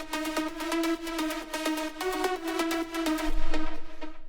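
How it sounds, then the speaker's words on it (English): A bright, layered progressive house drop synth lead plays a rhythmic stabbing pattern, loud and electronic, building with rising bass before cutting off. "let's start out with these drop leads"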